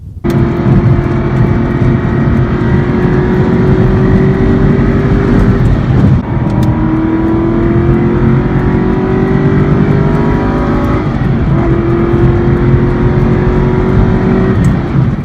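An exotic car on a rural road drops a couple of gears and revs hard, its loud engine note climbing in long pulls broken by brief shift breaks, close and continuous throughout.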